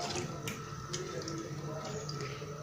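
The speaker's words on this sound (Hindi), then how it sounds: "ये तकरीबन मैंने 2 ग्लास पानी इसमें डाल दिया" Water is poured into a pot of mutton being cooked for black pepper gosht, a steady splashing stream close by and fairly loud throughout.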